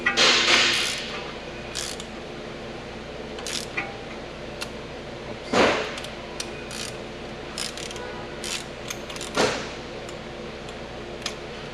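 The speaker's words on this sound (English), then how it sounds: "So I just use a ratchet here." A ratchet fitted with a half-inch drive adapter works on the front brake bolts of a Genesis GV70, a run of rapid clicking with a few louder metallic clunks, close and fairly quiet.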